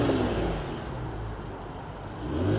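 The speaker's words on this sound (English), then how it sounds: "A couple of more NSXs coming in." Honda NSX sports cars roll into a Japanese car meet, their engines a moderate, steady hum passing nearby, rising slightly toward the end with no talk over them.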